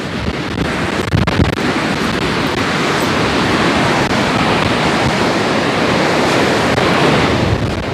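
Strong wind buffeting the microphone beside waves breaking on the seashore, a loud, continuous roar of surf and gusts that stays dense and steady, with no voices.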